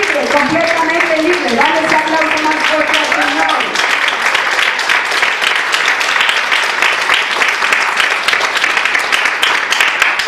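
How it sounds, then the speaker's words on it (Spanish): Strong congregation applause during a church conference, loud and sustained, with a speaker's sung or drawn-out voice over the start before the clapping takes over. "Dale ese aplauso más fuerte al Señor."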